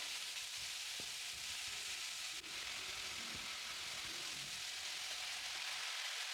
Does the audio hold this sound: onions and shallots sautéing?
yes